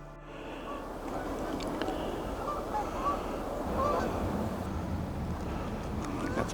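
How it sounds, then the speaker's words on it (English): Geese honk repeatedly while flying over a pond at a winter nature reserve, their calls scattered and somewhat distant above a steady wash of wind and outdoor background noise. "geese flying over."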